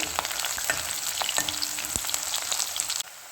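Mustard seeds, cumin and sliced onion frying in hot oil for a Vidarbha-style zunka, a steady close sizzle with scattered pops and spatters and a few stirring knocks, then an abrupt drop to quieter sizzling near the end.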